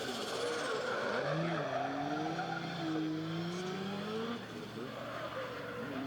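An International Drift Championship pro qualifying car slides along the outer line with the throttle pinned, engine wailing and rising in pitch over steady tire squeal, heard from a distance at moderate level.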